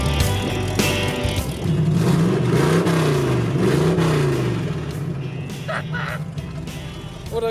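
A Ford F100 truck engine runs steadily just after its first start, a loud, close, rumbling idle with a rising and falling rev in the middle.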